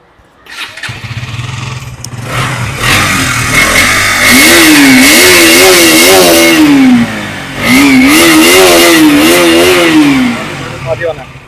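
A motorcycle engine cranks and catches, then settles into a loud idle before two strong rising revs, each held and then dropped, very close with a rough, throaty tone, with people talking beneath it.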